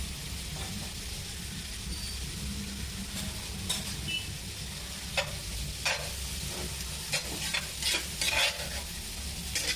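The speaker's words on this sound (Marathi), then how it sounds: "मस्त परतून घ्यायचे।" Chickpea masala with turmeric being sautéed in a pan, a continuous sizzle with repeated scraping stirs of a spoon, close and fairly quiet, no talk.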